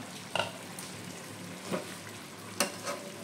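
Chicken cooking in its own released juices bubbles and sizzles steadily in a pan, with a few distinct scraping strokes of a spoon as it gets stirred, close and moderately loud.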